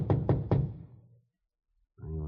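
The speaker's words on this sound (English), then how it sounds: "went up to the 4th floor and knocked at the door" Knocks at a fourth-floor apartment door in a police radio drama: three firm, evenly spaced raps close by, then a pause of silence before a muffled voice answers from inside.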